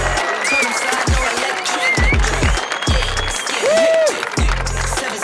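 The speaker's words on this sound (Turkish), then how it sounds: "Onlar için bir alkış." Crowd at a slam dunk contest event in Istanbul claps and cheers for visiting participants, steady applause with whistles and shouts over repeated thumping bass beats.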